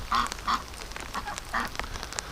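Ducks quacking in a hatchery among hatching duck and goose eggs, with several loud, nasal quacks coming in short bursts near the start and again midway, and fainter calls in between.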